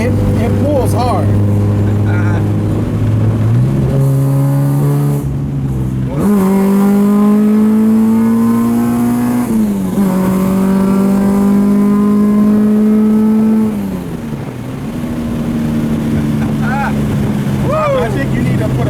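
An H2B-swapped Honda Civic engine accelerates hard through several gears, its loud revving climbing and dropping at each shift, recorded from inside the car with wind noise and some talking.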